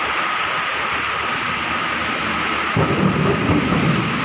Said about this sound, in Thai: โอ้ยฟ้าร้อง